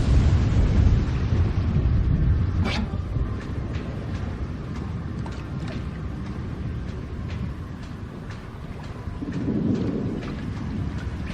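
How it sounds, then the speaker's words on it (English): A thunderstorm weather effect in the video game Zanki Zero: steady loud rain hiss with rumbling thunder, a sharp crack near the three-second mark and another low swell of thunder toward the end. "Interesting that there's a storm here. We've never actually had weather effects up until now."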